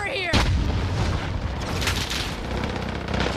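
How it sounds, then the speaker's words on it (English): Gunfire from a shooter video game comes in a heavy burst of close, loud shots and booms that roll on almost without pause, with a voice speaking briefly underneath. "I'm taking fire."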